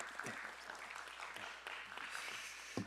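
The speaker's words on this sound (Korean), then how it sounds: "박수." Light applause from a young adults' joint church worship service before communion thanks the pastor, a soft, thin patter of scattered hands at a distance with a few sharper claps standing out.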